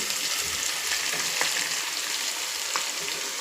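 Drumstick leaves frying in hot oil in a pan, a steady close hiss and crackle of sizzling with a few faint stirring clicks, no voices.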